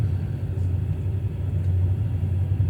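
A diesel locomotive in Train Sim World 2, throttle notched up to position 6, gives off a steady, heavy low rumble that stays close and constant, with no voices.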